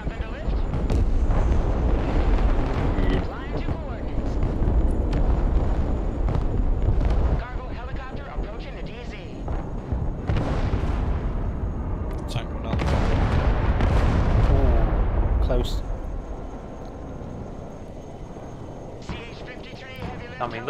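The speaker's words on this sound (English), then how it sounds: "Yeah, I'll bomb this building then." Continuous heavy explosions and rumbling bombardment as a building is bombed in the video game Broken Arrow, loud and sustained with overlapping booms and blasts throughout.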